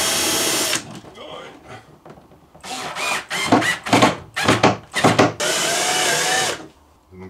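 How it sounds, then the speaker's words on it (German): A power drill bores holes while a VW T4 camper kitchen unit is built. It comes in a long run, then several short stuttering bursts and a final sustained whir, with a voice audible in the pauses. "Ich muss zusehen, dass ich hier die Löcher reinkriege."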